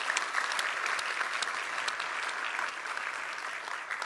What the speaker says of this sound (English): can I give you a round of applause to everyone here that's made ENS what it is today?